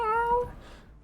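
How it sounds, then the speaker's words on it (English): A cat gives a single clear, close meow with a tonal rise and fall, ending quickly and leaving faint room noise behind. "Swear that's a cat noise."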